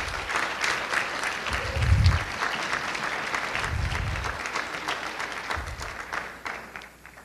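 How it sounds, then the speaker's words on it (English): An audience breaks into sustained applause, a dense wash of clapping that swells slightly, then fades away toward the end, with a few brief low thumps along the way. "Give him a big round of applause"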